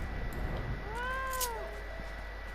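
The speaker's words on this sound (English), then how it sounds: "Love the way it meows." Cat character meowing in Final Fantasy XIV, a single clear drawn-out meow with a rising then falling pitch, heard alone over a soft game background.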